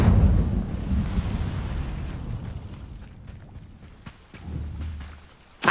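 Incendio fire spell cast in the video game Hogwarts Legacy, a loud whooshing, roaring burst at the start that fades over several seconds, followed by a smaller rumble and a sharp final pop.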